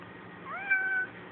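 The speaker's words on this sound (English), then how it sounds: "This is a kitty cat." A cat gives one clear meow, rising in pitch and then holding steady for about half a second, heard alone and fairly close against a quiet room.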